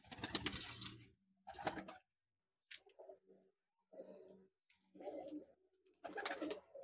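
Soft, close pigeon coos repeating in short phrases with brief pauses between them, with no other sounds around.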